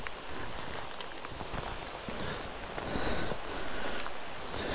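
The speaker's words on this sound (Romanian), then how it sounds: "Deci la fix o vine și ploaia." Steady rain falls near parked motorcycles on an enduro trip, a dense, continuous hiss of drops hitting surfaces with a slight swell toward the end, close and unbroken, with no voices.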